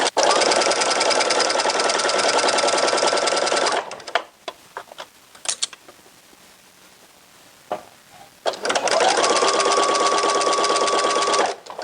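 A sewing machine runs steadily and loudly, stitching binding onto a T-shirt neckline, in two long bursts separated by a quieter pause filled with scattered clicks and handling noises.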